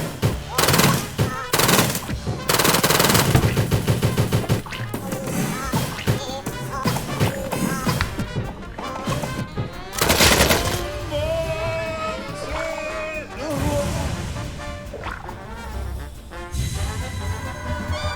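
Modern-warfare-style gunfire from a modded gun in the Hollow Knight video game, rapid automatic bursts and single shots in loud volleys, mixed with game music and effects and pauses between strings of shots.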